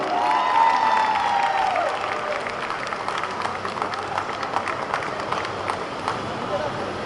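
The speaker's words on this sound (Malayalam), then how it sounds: "ആ ചക്കര കൊച്ചിനെ നല്ലൊരു കൈയടി കൊടുത്ത് സ്വാഗതം ചെയ്ത് വേദിക മോളവാ" Audience applause greeting a little girl onto the stage at the Chatha Pacha film trailer launch, a moderately loud wash of clapping and crowd murmur that stays steady throughout while a voice speaks early on.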